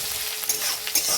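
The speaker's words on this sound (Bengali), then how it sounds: "এবার ভালোভাবে একটু মানে ভেজে নেব।" Ginger and black cumin frying in a wok, a steady close sizzle with soft scraping stir strokes and a couple of brighter spatter bursts.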